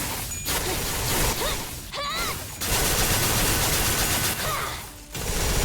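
Gunfire from the video game Limbus Company: dense, loud bursts of rapid shots and whooshing effects fill most of the stretch, cut by brief gaps, with mechanical clatter throughout.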